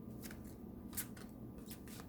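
Talisman oracle cards being handled and shuffled, giving a few brief papery snaps and rustles over a steady low background hum.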